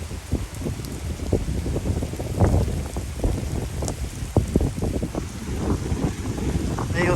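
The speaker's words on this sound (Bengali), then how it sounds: "আমার গায়ে বৃষ্টি এখনও পড়ে নাই, ভালোই বৃষ্টি হইতেছে।" Monsoon rain falls steadily with gusting wind in a village, a dense broadband wash of drops and buffeting wind noise that stays fairly loud and constant throughout, with no voices.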